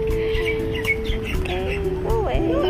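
A chicken clucks and chirps near a table at an outdoor spot by Kailua Beach in Hawaii, giving a string of short calls and a few rising squawks over steady background chatter.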